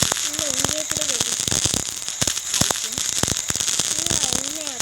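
Diwali pumpkin firework firing upward and bursting, a run of sharp crackling pops over steady hiss, with people talking nearby throughout.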